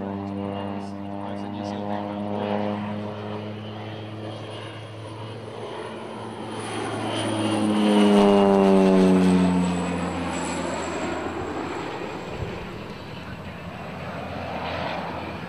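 A Pacific Aerospace P-750 XSTOL aircraft drones with a steady propeller and engine tone that swells and shifts pitch as it passes close, then fades. Someone talks over it.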